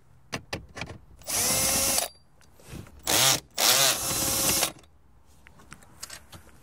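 A power tool drives out two 10 millimeter bolts during a wireless CarPlay install on a 2014-2017 Lexus CT, with three loud close bursts of whirring separated by short pauses and a few small clicks.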